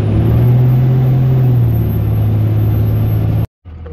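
A vehicle engine drives up to a dumpster at a business, a steady close rumble with a rising whine that holds for about three and a half seconds, then cuts out abruptly before a faint tail of noise resumes.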